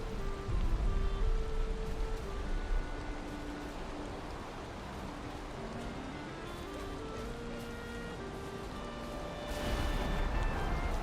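Steady rain in the survival game Valheim hisses as a dense, continuous wash, loud at the start and end and softer in the middle, with faint musical tones underneath.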